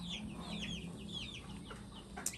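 Chickens on a Florida homestead clucking softly in a quiet, faint run of short calls, with no talking.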